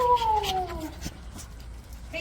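A cat's drawn-out meow slides downward in pitch, loud and close, then fades into quiet background noise.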